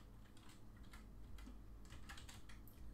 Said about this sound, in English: press the equals key and then type in average